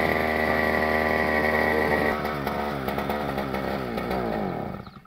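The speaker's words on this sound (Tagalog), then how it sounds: "naririnig ko maandar na yung isang grass cutter natin." A petrol grass cutter engine runs steadily and loud, its harmonic buzz wavering as the throttle shifts after about two seconds, then dropping away as it is cut near the end.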